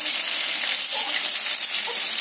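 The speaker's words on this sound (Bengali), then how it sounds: "চলো মাছগুলো আগে ভাজি" Fish sizzles steadily in a pan of hot oil, a dense, bright crackling hiss that runs continuously with small popping bursts, close and without talk.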